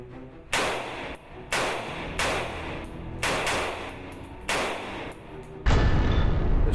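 An FN SCAR assault rifle fires close by in six loud, evenly spaced reports about a second apart; the last one is a heavier, sustained blast at the end. There is no talking.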